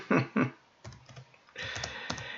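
Quick keystrokes on a computer keyboard, a couple of sharp clicks followed by a short run of lighter taps and another cluster of typing, close and clear in a quiet room.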